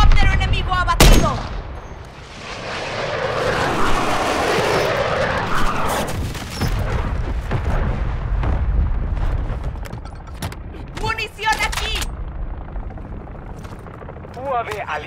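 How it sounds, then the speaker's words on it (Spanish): An allied bombing airstrike in a Modern Warfare 3 multiplayer match: a sharp crack, then a long roaring rush of blasts and rumble, followed by scattered gunshots and bursts, with Spanish-speaking game announcer voices over it. "Viene un bombardeo aliado."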